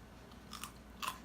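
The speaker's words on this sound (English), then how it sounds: "You hear that crunch?" Someone bites into a light, fluffy, crunchy snack, producing two quick, close crunches over a quiet background.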